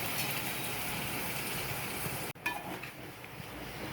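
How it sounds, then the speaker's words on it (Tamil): Garlic sizzles steadily in a pan for kara kuzhambu, then tamarind water is poured in with a sharp splash that briefly cuts the sizzle before a quieter simmer resumes. "இப்போ புளி ஊற்றிக்கலாம்"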